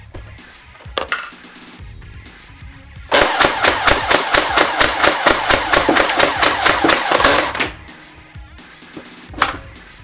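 A Nerf AA12 blaster empties its drum magazine of 50 cal foam balls in one rapid, evenly spaced burst of about twenty loud, close shots, with a few isolated clicks before and after.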